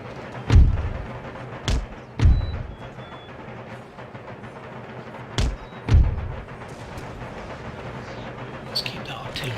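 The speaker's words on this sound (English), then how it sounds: "Let's keep that artillery going." Artillery fire in Empire Total War, with several heavy cannon booms at irregular intervals, some close and loud, others duller, over a low battlefield rumble.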